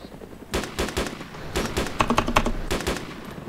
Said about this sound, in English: They know they're taking shots from me now.